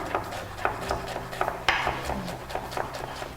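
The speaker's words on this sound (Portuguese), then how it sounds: "Vamos picar a cebola." A kitchen knife chops an onion on a board with a series of sharp, irregular close-up taps, some louder than others, over faint background noise.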